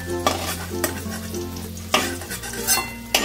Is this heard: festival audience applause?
no